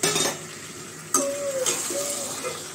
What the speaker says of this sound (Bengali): এখন ভালোভাবে মাংসটা কষাবো, আর সাথে আলুগুলো দিয়ে দিব